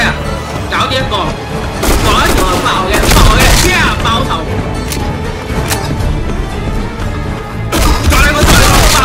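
Rifle gunfire from a SIG 556xi in the shooter game Black Squad, dense bursts of loud shots and impact thumps running throughout with brief lulls, while a player talks excitedly over the action.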